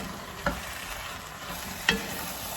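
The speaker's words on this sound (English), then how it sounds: "Stir that in" Marinara sauce stirred in a pan for shakshuka, with two brief, sharp spoon scrapes or clinks against a low, steady background sizzle.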